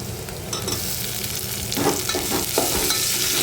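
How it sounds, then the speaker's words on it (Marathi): Tomatoes hit a pan of fried onion with a loud, continuous sizzle, broken by a few stirring scrapes in the second half. "आता याच्यामध्ये आपल्याला टोमॅटो घालायचे"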